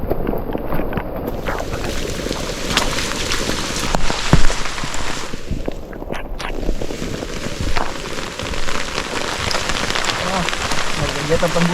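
Heavy rain drums steadily and loudly on a hiker's poncho during a mountain trek on Mount Argopuro, a close, dense patter mixed with gusty wind noise that continues without a break.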